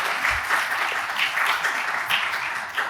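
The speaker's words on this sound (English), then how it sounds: "Can we give them a round of applause?" An audience gives the panel of a community involvement discussion a steady round of applause, dense and even-level clapping filling the full three seconds without any voices.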